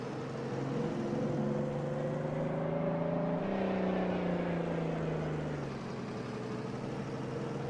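A truck drives in Farming Simulator 22, its steady engine drone holding close and loud throughout with a gentle rise and fall in pitch, no talk over it.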